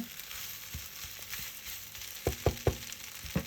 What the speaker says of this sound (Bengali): আলুটা সামান্য ভেজে নিয়ে